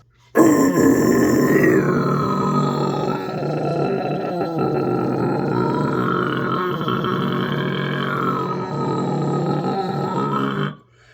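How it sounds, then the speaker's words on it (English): A guttural vocal sound made by scraping the tongue back and forth against the roof of the mouth, a steady loud growl lasting about ten seconds with its tone shifting as it moves front to back and back again. "I'll go from front to back and back to front with a guttural and just show you how much that can really change the sound of a vocal."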